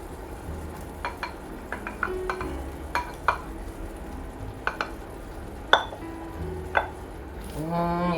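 Steak pieces returned to a gorgonzola cream sauce at a low simmer, quiet bubbling with scattered clinks and taps of a utensil against the pan, and a hum at the end.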